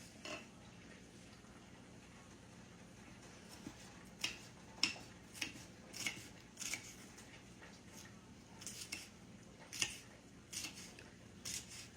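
Cornbread cut into tiny pieces for cornbread salad with a knife in a home kitchen: soft, faint chopping taps come in uneven clusters, some quick, with brief pauses and no talking.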